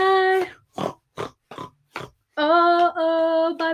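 A human voice imitates a pig in a playful children's song, giving a series of short, snorting oinks between longer sung, nasal squeals, close and clear.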